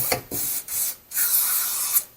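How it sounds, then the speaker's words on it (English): Aerosol spray bursts into the window mechanism inside a Land Rover Defender door, three separate hissing blasts of varying length with short pauses between, close and fairly loud, no voices. "So I'm down here and I'm spraying all inside this mechanism."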